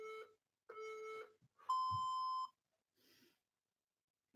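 Beeps from a workout interval timer during a bootcamp HIIT full-body session: a few short electronic tones, then one longer, higher and louder beep, fairly quiet with no talk over them.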